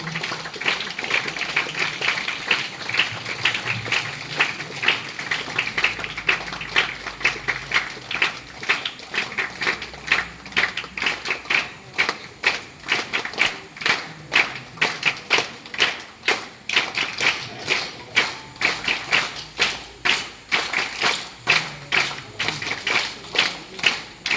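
A ceremony crowd applauds at length; scattered clapping soon locks into loud, rhythmic clapping in unison, with sharp regular beats that continue for over twenty seconds.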